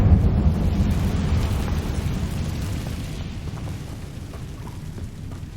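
The Confringo fire spell in the video game Hogwarts Legacy lets go with a loud, deep rumbling blast that booms at the start and rolls on as a long crackling roar.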